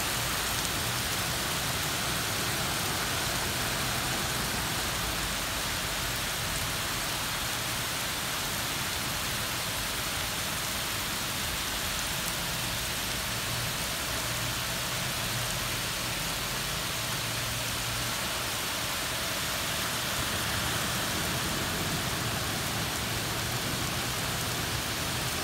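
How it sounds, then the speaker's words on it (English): Heavy rain pours steadily during local flooding, a dense, loud, unbroken hiss of drops on surfaces that holds for the whole stretch with no talking. "He's still raining really good, really hard."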